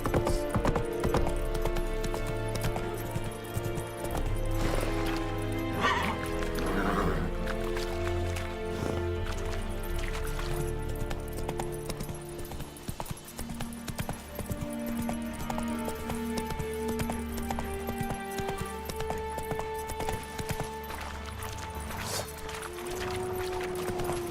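Horse hooves clip-clop at a steady gallop throughout, loud and continuous, under an orchestral music score in the video game The Witcher 3, with a brief whinny partway through.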